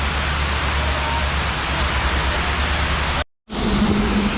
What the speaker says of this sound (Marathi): हा बघा पाऊस कसला खतरनाक चालू आहे